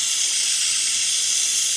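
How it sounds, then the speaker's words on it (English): A Jura coffee machine releasing a steady jet of steam, a loud, close, continuous hiss that holds constant throughout. "it's a nice steady steam coming out through the machine"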